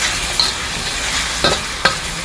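Ground pork sizzles and is stirred in a hot pan, a continuous crackling fry with a few sharp scrapes and clinks of the spatula, close and fairly loud with no voices.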